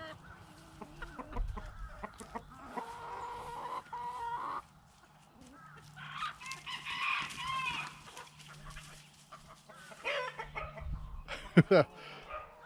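Roosters crow and cluck several times nearby, with a sharp loud call near the end, amid farmyard rustling.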